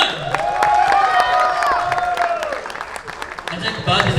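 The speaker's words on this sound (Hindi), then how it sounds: "मैं बोलना पड़ेगा तालियां बजाओ सर। Come on." An audience at a musical night claps in a steady broadband wash beneath a loud voice, with a sustained musical tone running through the middle of the clapping.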